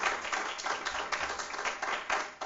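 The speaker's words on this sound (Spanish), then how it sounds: "vamos a darle un fuerte aplauso para que el doctor esté bien animado" Audience applause at a medical talk on neuromuscular foot deformities, a short burst of many hands clapping close and fairly loud, with no one speaking.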